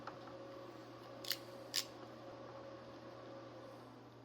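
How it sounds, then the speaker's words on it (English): A ratcheting crimper closes on an open barrel terminal end while wiring an off-grid tiny-house solar generator: two sharp, close metallic clicks about half a second apart over a quiet, steady hum. "I have a ratcheting crimper here. This is an open barrel end."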